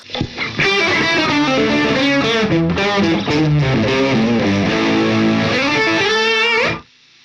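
Electric guitar played through an Amplitube 5 jazz fusion preset, a dense run of overdriven chords and fluid melodic lines with chorus-like shimmer, loud and continuous before stopping abruptly near the end.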